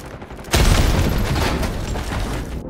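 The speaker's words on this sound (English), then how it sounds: "The grenades are going to get nerfed." A grenade blast in the Black Ops 6 shooter game hits with a loud, sudden boom, followed by a rumbling wash of debris and noisy chaos lasting a couple of seconds before it cuts off.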